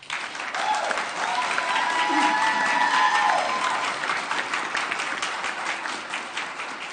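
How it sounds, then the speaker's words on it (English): A city council meeting audience in Amarillo applauds, giving a sustained, full round of clapping from a crowd in a chamber that holds steady for several seconds, with some faint murmuring voices mixed in. "if you wouldn't mind giving him a hand."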